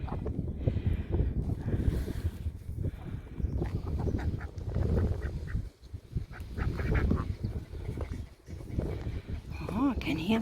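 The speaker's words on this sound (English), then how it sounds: "Oh, I can hear the geese." Geese honk at a farm amid nearby ducks, scattered nasal calls under a person talking close by, with some farmyard movement in the background.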